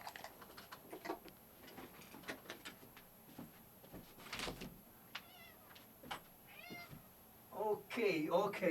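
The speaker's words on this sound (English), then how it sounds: "Maybe in background you can hear meowing of my cat" A house cat meows several times, rising and falling calls that build louder near the end, while a person talks nearby and small bumps and clatter sound around the room.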